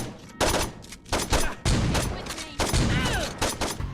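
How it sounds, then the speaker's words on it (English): Gunfire from the video game Saints Row 2 rings out in loud bursts of shots and impacts, mixed with game effects and some gliding tonal sounds, dense and punchy throughout. "The weapon noises are amped up and loud, the impact of bullets creates unsettling sounds of bone cracking."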